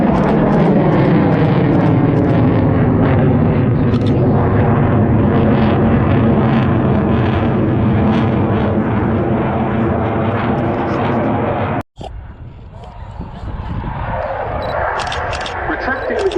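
A Dassault Rafale fighter jet performs at the RAF Cosford air show 2026 with a loud, sustained engine roar and rising harmonic whine under a commentator's voice. The roar drops out abruptly, then a quieter, rougher rumble follows.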